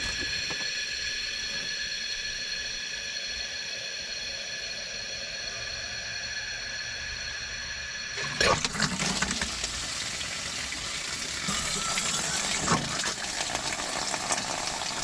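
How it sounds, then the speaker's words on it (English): Steady tonal pump hum, then partway through water suddenly rushes and gurgles back up through a pipe at an off-grid tiny home, continuing noisily to the end. "You'll hear the water come back up the pipe."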